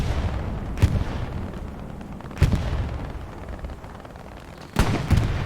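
Grenade blasts and gunfire in a first-person shooter match, three heavy booms spaced a couple of seconds apart, each ringing out over a low rumbling bed of game noise, with no voices.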